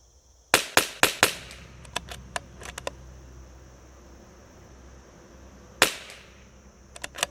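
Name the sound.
shots from a Whidden Gunworks CZ 457 rifle at a target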